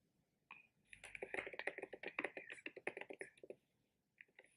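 Fast bursts of keystrokes on a computer keyboard, close and clear, a dense run of clicks with a short pause and a few final taps, no talk.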